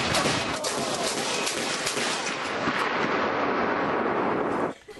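A World War II era 40mm Bofors gun fires, filling the air with a loud, sustained, roaring blast that rolls on for several seconds before dropping away sharply.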